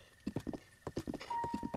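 Horse hooves clip-clop in a steady, quick rhythm in The Legend of Zelda: Breath of the Wild, with a faint whinny-like tone near the end; the steps are close and moderately loud against quiet game ambience.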